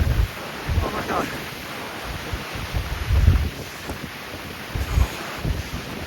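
Strong gusting wind of 60+ mph batters the microphone on Mt. Whitney during a blinding snowstorm, roaring and buffeting in uneven bursts, loud and close throughout.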